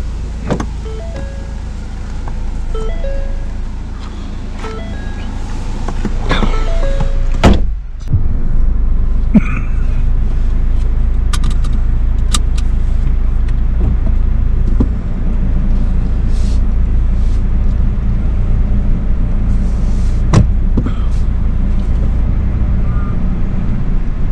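Car interior on a drive around a residential neighborhood, with steady engine and road rumble throughout, a brief power-window whir and a few clicks and knocks, no talking.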